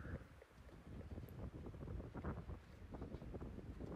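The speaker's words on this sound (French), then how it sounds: "On voit les rafales de vent, ça soulève la terre, c'est vraiment, c'est vraiment horrible." Strong wind gusts sweep across an outdoor clay tennis court, buffeting the microphone with a continuous low rumble and roar and no speech.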